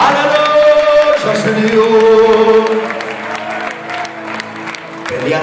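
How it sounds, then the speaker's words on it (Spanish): Church congregation applauding during an evangelical sermon, a dense continuous wash of clapping that swells and holds throughout, with voices and music-like tones mixed in beneath. "¡Aplauda, aplauda, aplauda fuerte!"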